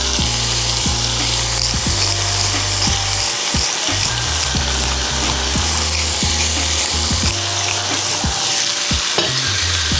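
Chicken frying in a pan for peanut chicken, sizzling loudly and continuously while a scraper stirs and scrapes across the pan in irregular strokes, close up with no talking.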